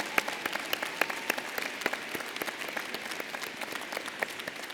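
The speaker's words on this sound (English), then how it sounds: "please join me in giving them a well-deserved round of applause" Warm round of applause from a commencement ceremony audience honoring graduates' supporters, steady crowd clapping with scattered sharp individual claps standing out, continuous throughout.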